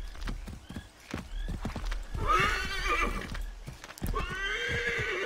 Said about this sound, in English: Shut up, you stupid horse.